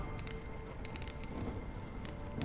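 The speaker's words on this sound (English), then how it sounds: "When will this rain" Steady rain falling in the Honkai: Star Rail video game, a continuous dense patter with scattered crisp drop ticks, even and close, with no speech.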